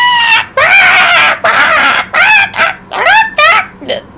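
A man imitates a monkey's screech with a rapid run of loud, shrill, squawking shrieks that sound like a deranged parrot, each cry rising and falling in pitch.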